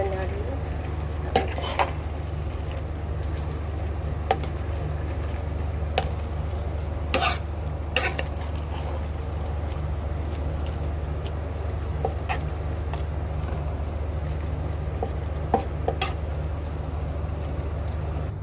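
Malabar spinach and lentils stirred in a pan, with scattered sharp clinks of a utensil against the pan at irregular intervals over a low, steady background hum.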